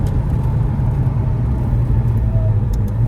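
Cabin of a McLaren 720S on a night drive, with a loud, constant low engine and road rumble that is steady throughout.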